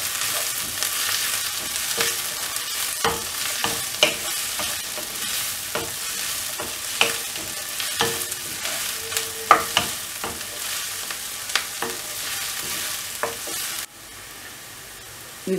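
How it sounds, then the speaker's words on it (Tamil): Garlic and onions sauté in a pan with a steady sizzle, broken by repeated scraping and clacking strokes of a spoon stirring; close and fairly loud, without speech, ending with a sudden drop in level. "பூண்டு ஆட் பண்ணிட்டு இது நல்லா வதக்கி விட்டுறலாம்"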